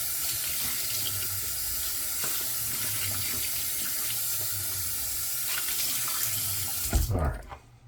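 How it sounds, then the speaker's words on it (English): A sink tap runs in a steady, full stream while a shaving brush is rinsed under it, and the flow is shut off abruptly near the end. "Load it up and get this rinsed off."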